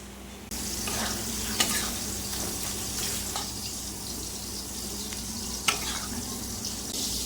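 Spinach greens stirred as they fry in a pan, a steady soft sizzle with occasional sharp scrapes of the spoon against the metal, close and without talk.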